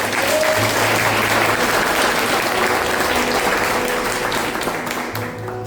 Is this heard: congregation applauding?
yes